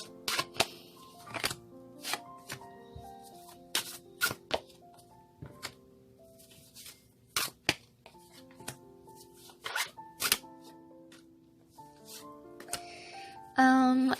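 Cards are shuffled in quick riffling bursts with soft taps and rubbing between them, close and moderately quiet.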